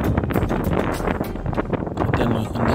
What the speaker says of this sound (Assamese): চাৰিওফালে ইমান বতাহ, বেছি বতাহৰ মই ভালকৈ মোবাইলটো মানে ধৰিব পৰা নাছিলোঁ